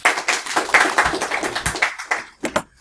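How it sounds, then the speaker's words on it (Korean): A small group in a Korean university lecture on semiconductor device measurement claps after a presentation, scattered distinct hand claps that thin out into a few final sparse strikes near the end. "네, 박수."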